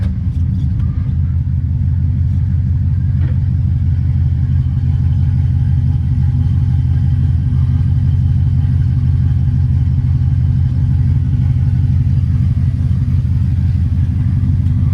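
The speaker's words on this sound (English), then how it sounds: "we are about to take the Trans Am for a little bit of a ride" A 1999 Trans Am with its exhaust cutouts open, driving along with a deep, steady engine rumble that stays loud and continuous, close up, with no talking.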